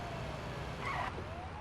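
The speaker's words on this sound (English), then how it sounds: "we gotta, like, you know, blare the sirens and haul ass" An ambulance siren wails in an emergency medical simulator video game, a faint rising tone over a steady engine drone, with a brief brighter burst midway.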